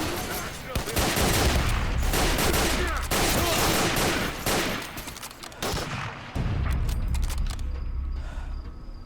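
Gunfire in S.T.A.L.K.E.R. Misery, dense rapid bursts of close shots with brief pauses, loud and continuous, fading toward the end.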